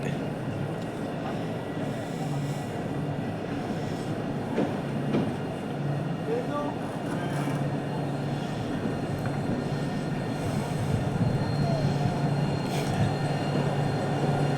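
A tram on Montpellier's TAM line 3 arrives at the Rives du Lez station, giving a continuous rolling rumble and hum that builds slightly toward the end, with faint voices nearby.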